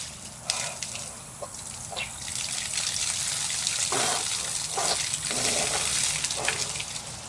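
Cold running water gushes and splashes in a steady, fairly faint stream outdoors in Florida, with small irregular spatters and no talking.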